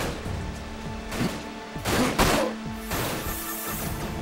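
Sniper shots and impacts crack in the action game Dirge of Cerberus, several loud, sharp blasts spaced irregularly over a background of game music.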